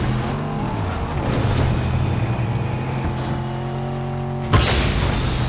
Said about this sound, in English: got a car right here.